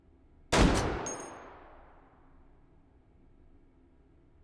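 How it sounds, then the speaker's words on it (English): A single loud sniper rifle shot cracks at a VR long-range shooting range in Hot Dogs, Horseshoes & Hand Grenades, its echo trailing off slowly, with a faint click at the end. "Let's see if we can get another shot there."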